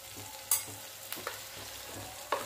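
A garlic chutney mixture roasts in oil in a pan, with an even sizzle broken by a few sharp spatula scrapes and knocks, close up and without voices.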